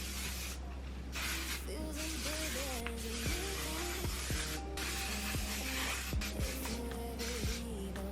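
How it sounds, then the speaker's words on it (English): IGK heat protectant and humidity spray misted onto hair in a series of short hissing bursts, close and fairly soft, with quiet handling noises between sprays. "I'm going to saturate my hair in this heat protectant and humidity spray from IGK"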